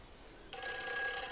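A telephone rings inside the video game Everybody's Gone to the Rapture, a bright electronic ring that starts abruptly after a short hush and holds steady and fairly loud.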